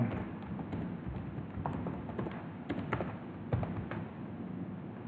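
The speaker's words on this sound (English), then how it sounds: "you type a password." Quick, irregular keystrokes tap out a password on a computer keyboard while setting up Windows 7 in VirtualBox, soft and close over a steady low background hum.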